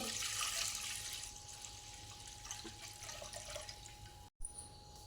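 Water being poured off settled wheat starch into a second vessel while making kurdai, a steady close trickling and splashing that runs almost continuously, with a short break near the end.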